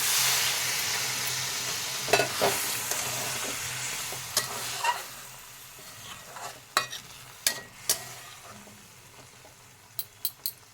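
Prawns with potato and eggplant are stirred in a pan, giving a soft sizzle under scattered sharp spoon knocks and scrapes that come in a loose, uneven rhythm near the end.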